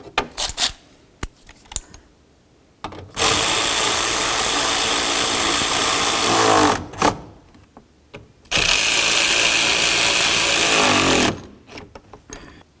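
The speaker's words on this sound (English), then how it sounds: "let's go ahead and put in our mounting bolts that hold the fan shroud and the fan to the radiator." A power tool drives fan shroud mounting bolts into the radiator of a 2013-2018 Dodge Ram 1500 in two long, loud, steady whirring runs of a few seconds each, separated by quieter clicks and handling sounds.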